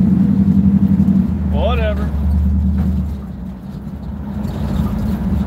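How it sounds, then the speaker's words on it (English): A highway-built car with tall gearing rumbles steadily while driving, a low continuous drone, with a person speaking briefly over it partway through. "Car does sound pretty good, eh?"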